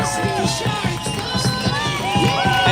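A stadium crowd at a football match between Corpus Christi FC and Round Rock FC cheers and roars continuously, with whistles and shouts rising over the dense din.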